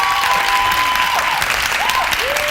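A studio audience at a South African television discussion show bursts into loud, dense applause that holds steady throughout, with a faint tone sliding underneath.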